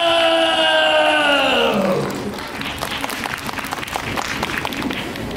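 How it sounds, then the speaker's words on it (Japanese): A crowd applauds in a clapping wave at a Universal Studios Japan monster rock-and-roll live show, a dense patter of many hands that swells and carries on steadily after a voice calls out at the start. "こっちの端から向こうに向かって拍手ウェーブ開始。"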